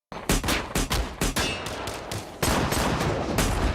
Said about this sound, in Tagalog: Nagpalitan ng putok mula sa magkabilang panig